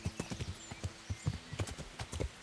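Horse hooves clip-clopping in Kingdom Come: Deliverance, a steady rhythmic series of close, distinct hoof strikes at a walking pace, with no talk over them.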